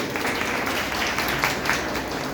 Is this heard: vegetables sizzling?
no